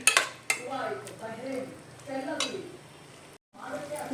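Savaji-style mutton sukka being mixed in a pan, with clanking spoon-on-metal scrapes and clinks over a faint sizzle, close up, while someone talks over the stirring.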